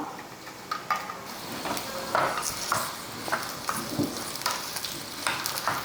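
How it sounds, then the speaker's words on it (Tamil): Oil sizzles steadily as a large onion fries in a pan for coconut chutney, with a spoon stirring and scraping in short bursts throughout. "ஒரே ஒரு பெரிய வெங்காயத்தை எண்ணெய் காஞ்சதுக்கப்புறம் இதிலே போட்டுடலாம்"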